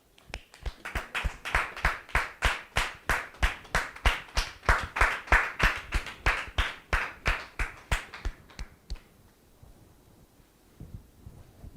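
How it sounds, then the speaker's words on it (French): A studio audience applauds a guest arriving on a talk show set, steady loud rhythmic clapping for about nine seconds before it fades out. "Sous vos applaudissements,"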